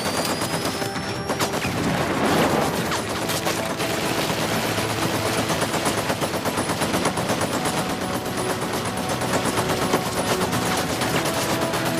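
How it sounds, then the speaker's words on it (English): Video game gunfire with a flash grenade going off, sustained dense bursts of shots filling the whole stretch, loud and busy, with a louder blast early on. "I'm gonna use the flash grenade."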